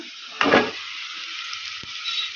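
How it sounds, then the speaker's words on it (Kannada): Peeled drumsticks drop into a hot pan with fried onions for a village-style sambar, a sharp burst of sizzling followed by a softer ongoing fry and a light clink. "ಈ ನುಗ್ಗೆಕಾಯನ್ನ ಹಾಕ್ಬಿಡೋಣ"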